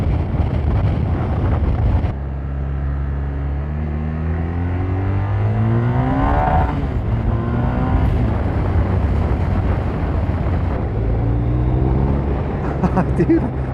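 BMW R1250RS motorcycle engine cruising on the road at just under 4,500 RPM in road mode, a steady loud drone with rising and falling harmonic tones as it shifts, heavy wind rush over the microphone and a voice talking at times.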